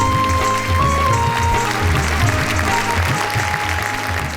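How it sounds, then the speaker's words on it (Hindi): An audience at a Hindi comedy poetry gathering applauds loudly and steadily, a dense continuous wash of clapping with a faint musical tone running underneath. "हम जोरदार तालियों से स्वागत करें"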